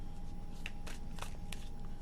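Tarot cards being shuffled by hand, a few quick soft riffling flicks spaced through a quiet room, faint and close, with no one talking.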